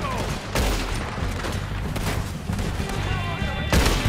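Dense, loud bursts of gunfire in a Red Dead Redemption 2 shootout, shots overlapping in a continuous barrage with heavier blasts near the start and end.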